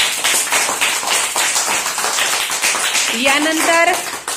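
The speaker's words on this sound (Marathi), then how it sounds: "सगळ्यांसाठी एकदा जोरदार टाळ्या होऊन जाऊ द्या" Students in a classroom clap together in a loud, rapid burst of applause that carries on steadily, with a voice calling out briefly near the end.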